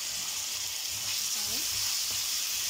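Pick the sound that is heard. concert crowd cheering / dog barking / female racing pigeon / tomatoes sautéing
tomatoes sautéing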